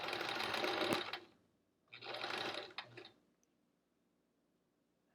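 Two bursts of a domestic sewing machine stitching quilt strips, a fast whirring chatter of about a second each, separated by a short pause and followed by quiet.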